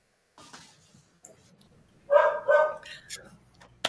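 A dog gives two short, sharp barks about midway, close and fairly loud, with faint voices and quiet room noise around them.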